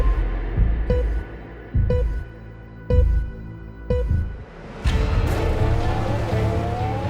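Formula 1 race cars at a standing restart of the Australian Grand Prix, with repeated loud engine revs rising and cutting in bursts, then a roaring wave of cars launching together with tire squeal, close and alone.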